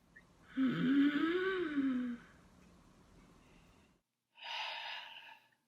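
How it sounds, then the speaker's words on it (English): In a Grade 12 stage show, performers take a long, rasping deep breath in, then a quieter pause and a second breathy inhale, close and alone with no talking. "We breathe in."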